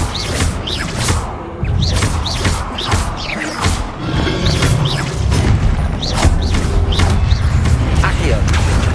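In Hogwarts Legacy, Confringo spells go off in repeated booming blasts with crashing debris and whooshes, loud and close, while speech plays through the clip.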